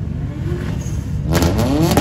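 Toyota Supra engine at a two-step competition, revving hard and climbing in pitch over about two seconds, loud and close with a rising roar.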